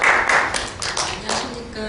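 At a policy forum on arts for disabled children, a small audience claps to welcome a parent representative to the podium, a brief uneven patter of hands that thins out, with a voice faintly underneath.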